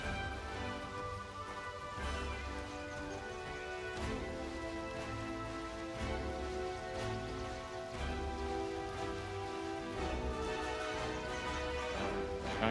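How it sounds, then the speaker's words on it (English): Steady rainfall in the survival video game Outward, a soft, even patter that runs without a break under sustained musical tones and light thuds, fairly quiet throughout. "Well, good. Now it's raining."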